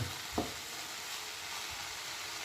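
A Kerala home-style curry stirred in a pan, one brief scrape of a spoon against the pan over a low, steady sizzle that continues quietly.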